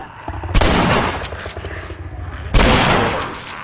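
Two heavy shotgun blasts boom out in The Last of Us video game, roughly two seconds apart, each loud and close with a ringing tail, amid tense gameplay noise.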